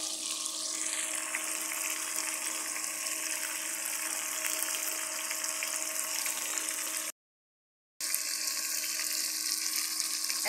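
Fish fry in hot oil, a bright continuous sizzle with crackling spatter, close and fairly loud, broken by a brief silent gap before the sizzling resumes with no talking.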